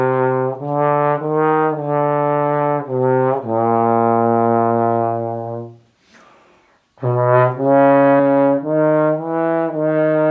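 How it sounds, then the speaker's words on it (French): A trombone plays a legato melody of sustained notes, a short phrase followed by a pause and a breath before it resumes; full and close, solo with no talking. "j'utilise une petite mélodie que je fais partir du grave et que je fais monter de plus en"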